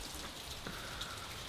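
Steady rain hisses evenly throughout, a soft continuous patter with no voices.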